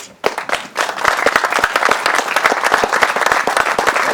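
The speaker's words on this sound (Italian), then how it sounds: "Fate un applauso, Concetta." Applause breaks out at a peace festival gathering: after a brief pause, many hands clap in a dense, lively patter that continues steadily at close range.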